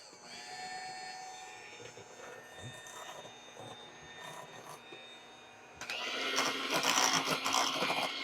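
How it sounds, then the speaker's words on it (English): An electric mixer beating cream cheese for a chocolate cream cheese pie switches on after a stretch of quiet kitchen hum, giving a loud, steady whirring drone close by for the last couple of seconds. "But I don't think it would be very good if I didn't use the mixer"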